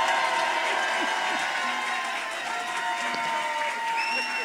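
Audience applause in an Italian TV studio after a live performance of a song, a steady, dense wash of clapping and crowd noise that carries evenly throughout.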